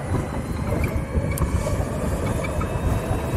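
A LiveWire electric motorcycle rides through Huntington Beach, California, with a steady loud rush of wind buffeting and low road rumble throughout and no voices.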